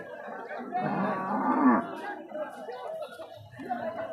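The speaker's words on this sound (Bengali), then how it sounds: "গরুর মার্কেটে গরু কম আছে" A cow lets out a long, loud moo up close, followed by murmuring chatter from people nearby at a busy cattle market near the Bangladesh border.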